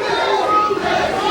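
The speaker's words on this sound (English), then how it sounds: "You can even hear the crowd." A wrestling arena crowd cheers and roars in a dense, continuous wash of voices, loud and unbroken for the whole moment.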